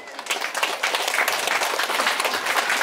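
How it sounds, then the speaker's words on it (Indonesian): A crowd at a memorial ceremony breaks into steady, dense applause that holds evenly at full strength throughout. "sekali lagi kita tepuk tangan kepada Bapak orang tua kita"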